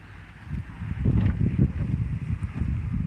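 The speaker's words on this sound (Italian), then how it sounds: "Forte vento." Steady low rumbling wind buffeting the microphone by the sea, gusting stronger midway, with a broad roar and no voices.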